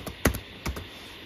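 A few quick, close keystrokes clatter on a computer keyboard, a short irregular burst of clicks with a brief pause between, as a search term is typed into the Microsoft Edge search bar.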